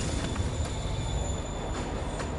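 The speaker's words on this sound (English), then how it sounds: "Train's moving." A moving train rumbles along in the Marvel's Spider-Man video game, a loud, steady roar of wheels on rails with high metallic squealing running over the top.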